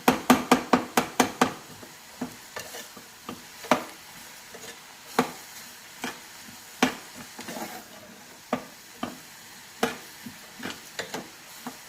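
Tomato and onion frying with salt for a bitter gourd palya, with a fast flurry of spatula taps against the pan at first and then sparser clacks over a faint sizzle.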